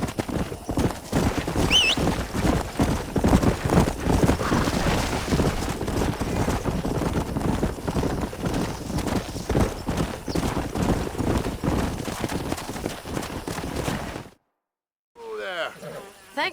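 Horse hooves clip-clop steadily and close in Red Dead Redemption, a continuous rhythmic trotting with buzzing insects and occasional whinnies, ending in a brief silence and a short sweeping sound.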